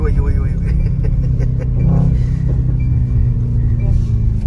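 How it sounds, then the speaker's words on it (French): A sports car in race mode with its exhaust valves open gives a loud, steady low engine rumble close by, with people talking over it throughout. "Donc là t'es en race, il y a les échappements qui sont ouverts."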